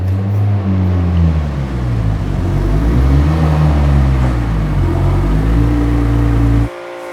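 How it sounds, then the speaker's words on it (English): A Porsche with all-wheel drive and a boost leak fix, heard close as a loud, steady engine drone whose pitch rises and falls as it drives, ending abruptly. "doing a quick test drive in the Porsche"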